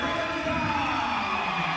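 Football crowd at a Singapore NFA under-15 match against Manchester City under-15 cheering as a substitute comes on, a steady dense roar throughout with a commentator talking over it.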